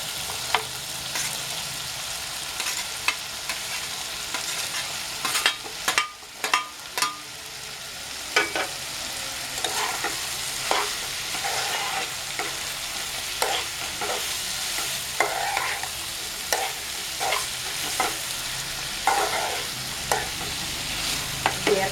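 Ridge gourd pieces fry in a pan of egg and prawn curry, a steady sizzle broken by frequent sharp scraping knocks of a spoon stirring, loud and close with no talking.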